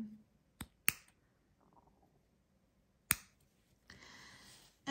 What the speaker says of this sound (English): So go through and just cut it all open.